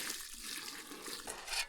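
Liquid pours steadily into a container while making cactus glue, a soft continuous splashing trickle, faint and close, with no talking.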